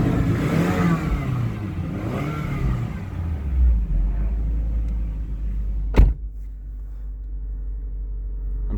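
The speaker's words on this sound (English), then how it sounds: "Cold start." A 2011 Scion tC engine cold-starts and revs, rising and falling in pitch twice before settling into a steady low idle, with a sharp click partway through.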